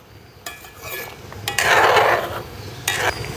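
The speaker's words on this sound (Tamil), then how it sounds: "இப்படியே நாங்கள் இப்படியே கலந்து கொண்டே இருக்க வேணும்" Metal spoon scraping and clinking around a pan while white pumpkin sweet is stirred, a few louder scrapes and rattles standing out over a soft steady background.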